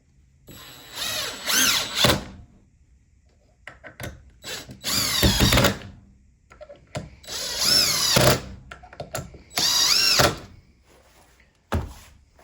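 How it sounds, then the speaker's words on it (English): A Dewalt 20 volt cordless drill drives four roughly one-inch screws, each a loud whirring burst with rising motor pitch and a ratcheting finish, separated by short quiet pauses and handling clicks, with no talk. "We have 4, about 1-inch screws. And we're going to drive them in, see how it looks."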